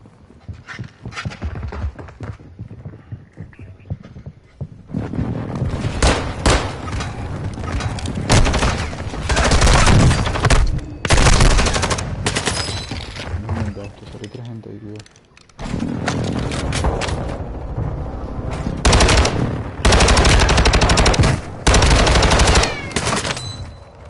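Rapid automatic gunfire and heavy blasts from an airstrike in Call of Duty Warzone come in long, loud bursts separated by brief lulls, with voices talking over parts of the action.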